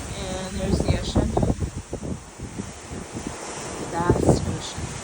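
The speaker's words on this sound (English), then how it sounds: "And there's the ocean." Ocean waves and wind heard from a balcony on the Royal Princess cruise ship, with gusty wind buffeting the microphone over a broad surf roar while people talk nearby.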